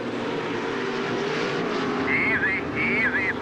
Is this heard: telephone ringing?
no